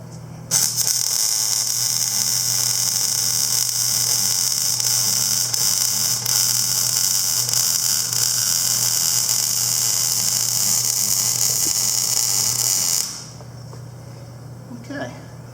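Welding on a steel H&S hay rake upgrade, a steady, loud crackling buzz that runs unbroken for about twelve seconds and then cuts off, leaving a lower background hum.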